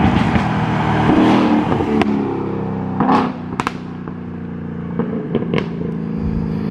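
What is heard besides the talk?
Mustang GT exhaust popping with X-pipe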